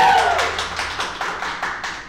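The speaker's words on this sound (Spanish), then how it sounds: "fuerte el aplauso para el Lobo Mestizo" Scattered clapping from a small group at a podcast taping, a handful of distinct, roughly even claps with a faint tonal sound at the start.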